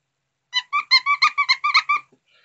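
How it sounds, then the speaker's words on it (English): A squeaky emperor penguin toy is squeezed about nine times in quick succession, each short, bright, nasal squeak sounding close and clear against silence. "A squeaky penguin."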